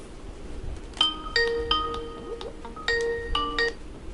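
An incoming call rings on a phone, two short bursts of bright electronic chiming tones with a pause between them, clear and close over a quiet background.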